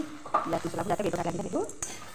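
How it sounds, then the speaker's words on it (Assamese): Bread pieces fry for masala bread in a pan and are stirred with a utensil, giving soft sizzling under repeated scraping and clinking against the metal in short irregular bursts, close and moderately quiet. "আকৌ অলপ সময় ভালদৰে লৰাই ভাজি ল'ম, যাতে ব্ৰেডবোৰ কোমল হৈ যায় আৰু অলপ কৰকৰীয়া টাইপৰ হৈ যায়"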